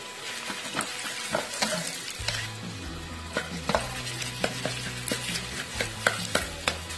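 Ingredients for Lanna-style kaeng khua, a northern Thai curry, sizzle loudly in a hot pan while a utensil scrapes and stirs in a quick, irregular rhythm, close up and without talking.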